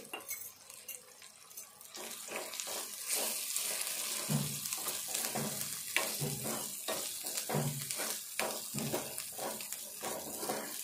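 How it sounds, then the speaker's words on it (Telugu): Onions with salt fry in a pan with a soft, constant sizzle, while repeated scraping and tapping of a utensil stirs them at an uneven pace. "సాల్ట్ వేసుకుందాము. ఉల్లిపాయ తొందరగా గోలుతుంది."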